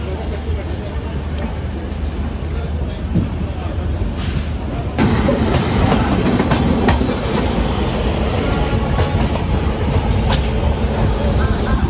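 The Tatanagar–Howrah Steel Express runs on rails with a steady rumble and rhythmic clickety-clack from inside the carriage, growing louder midway, while a person speaks over it.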